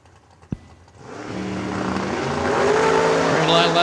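Drag race cars, one of them a Camaro, launch from the line at a drag strip, with a sharp crack followed by engine roar swelling loud and steady, an announcer talking over it.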